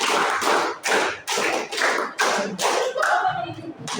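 Rhythmic group hand clapping in a classroom counting game, beaten out in a steady series of about eight loud claps in counted patterns, with voices mixed in toward the end.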